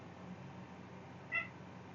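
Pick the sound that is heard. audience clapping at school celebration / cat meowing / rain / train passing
cat meowing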